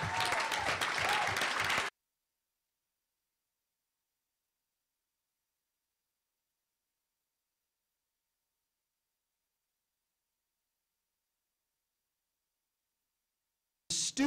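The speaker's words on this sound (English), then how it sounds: "Give them a round of applause, please." A university audience at a presidential debate event breaks into applause, loud and dense for under two seconds before cutting to silence, with a short burst returning at the very end.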